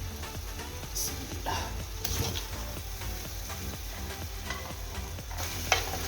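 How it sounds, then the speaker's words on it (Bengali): Chicken wings sizzle in sauce in a frying pan for Bengali-style naga chili wings, with a steady loud frying hiss, scraping and stirring noises, and a few sharper clinks throughout. "এখন আমি উইংসগুলো এর মধ্যে দিয়ে দিচ্ছি"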